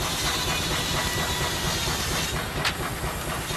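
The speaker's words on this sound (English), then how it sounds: "This traction engine was used to power all sorts of machinery." A steam traction engine works on a farm, giving a loud continuous hiss of steam over a low mechanical rumble, with one brief sharper burst partway through and no talking.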